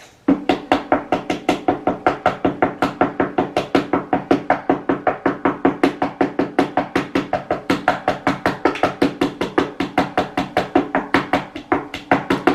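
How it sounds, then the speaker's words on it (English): Frantic knocking on a door, a rapid, relentless series of loud, evenly spaced knocks pounding on for the whole stretch with no pauses, close and sharp, no voices. "This how a lunatic knock."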